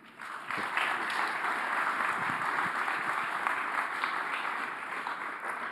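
Sustained audience applause at a humanoid robot product launch, dense steady clapping from a crowd lasting several seconds with no talk over it.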